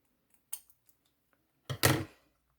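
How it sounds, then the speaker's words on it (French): Paper is cut with scissors along the base of a hot-air-balloon basket on a handmade card, giving a few soft, isolated snips followed by a louder, longer crunching cut near the end. "Donc je coupe tout simplement en suivant la base de la nacelle."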